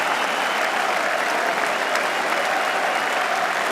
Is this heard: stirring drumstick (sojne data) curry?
no